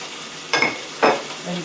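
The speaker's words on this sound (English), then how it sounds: "And then put in the diced Chinese mushrooms." Diced Chinese mushrooms drop into pork bun filling in a pan, giving two soft scraping, sizzling bursts followed by a faint low clink, heard close in a quiet kitchen.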